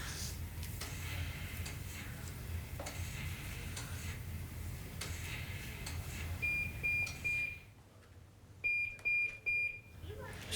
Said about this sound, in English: Where's your buzzer?